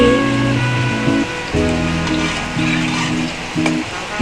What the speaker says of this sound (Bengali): বাইরে বৃষ্টি পড়ছে